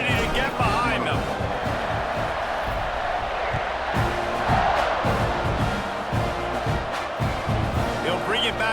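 A stadium crowd at an Indiana at Texas A&M college football game roars and cheers at the kickoff, a broad, sustained wall of noise with swelling shouts, while a commentator talks over it.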